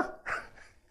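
A mimicry artist's voice imitates a dog, giving a short close bark-like yelp that trails off in under a second, heard alone.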